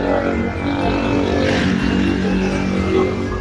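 A motorcycle engine drones steadily close by, loud and continuous for the whole stretch, with a slight swell near the middle as it goes past at an ornamental fish shop.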